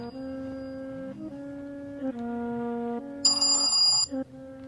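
A phone ringtone plays a looping electronic melody of steady tones, moderately loud and close, with a brief brighter burst partway through.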